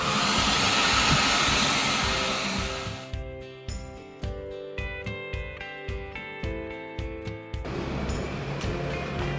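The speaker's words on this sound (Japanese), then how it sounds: "最後はね、ドライヤーで乾かします。" A hair dryer blows steadily onto a Super Cub gas tank, a broad whooshing roar that stops briefly for a stretch of rhythmic clanking and humming before the airflow resumes.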